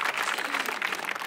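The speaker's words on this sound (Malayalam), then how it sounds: "നമ്മൾ കൈയടി കൊടുക്കണ്ടേ?" An audience claps and applauds in a television comedy show studio, a brief burst of dense, lively clapping at moderate loudness.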